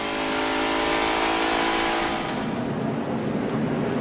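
A stock car at a NASCAR-style race, the 2008 Dollar General 300, roars loud and close as the driver gets back on the throttle, the engine tone sweeping and sustained with no pause through the whole stretch.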